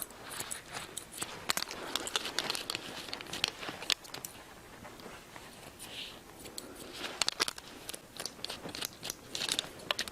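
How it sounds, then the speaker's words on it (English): Hair shears snipping through fine hair during a convex, flipped-out haircut, giving close, repeated crisp crunching snips in irregular bursts with no talk. "So what I want to do is to cut this so this flips out"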